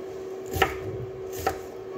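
Knife chops through salad vegetables on a board, two distinct sharp cuts a little under a second apart, quiet and close, no talking.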